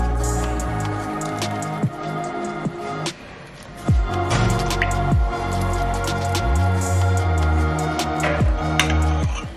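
Melted cooking coconut oil poured as carrier oil for homemade body butter, giving close, wet dripping and squishing sounds with soft clinks of utensils throughout.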